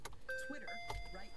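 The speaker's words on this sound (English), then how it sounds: "It's very Volkswagen Audi group with all of the beeps and bongs." Volkswagen e-Up electric car chiming after the ignition is switched on: a few short, clean electronic tones in quick succession inside the cabin, with some talking over them.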